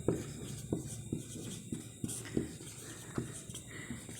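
Writing on a board during a physics lesson on Gauss's law, with steady scratching strokes and taps at a fairly regular pace, soft and close against a faint background hum.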